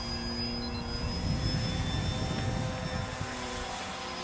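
Electric motor of a Dynam AT-6 Texan RC model airplane at full throttle, a steady high-pitched whine with a mild rise and fall in strength as it climbs and dives overhead, heard alone.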